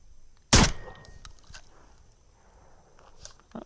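A single loud shotgun blast of buffered number 1 buckshot fired at 10 yards, a sharp broadband report near the start followed by a short decay and quiet outdoor ambience.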